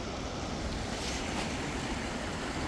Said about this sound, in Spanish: Una cantidad de agua, madre mía, qué cantidad de agua viene este año.